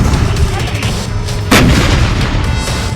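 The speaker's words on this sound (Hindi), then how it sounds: "फिर तोपों से उन टारगेट पर निशाना लगाता है" Artillery fire from Israeli army guns shelling Gaza, loud booming blasts over a dense rumbling roar, with one sharp report near the middle standing out clearly.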